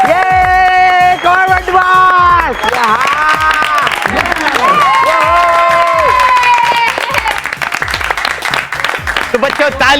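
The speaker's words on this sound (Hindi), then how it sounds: "तालियों की गड़गड़ाहट के बीच मैं आप सबके सामने पेश करने जा रहा हूँ student of the decade Montu the greatest लखान" Applause for a student being presented to a crowd, a short burst mixed under a loud, tonal musical fanfare with speech-like voices.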